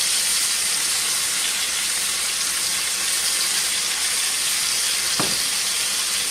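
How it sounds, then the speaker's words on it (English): Chicken searing in a pan over a medium-high flame, a steady, dense sizzle of frying fat running throughout at close range, with one brief sharp tick near the end. "I'm going to add my chicken. And all I want to do is just sear this real quickly."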